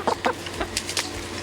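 Several chickens cluck in short, irregular bursts at close range outdoors in a vegetable garden, with quieter bird sounds and steady background noise between calls.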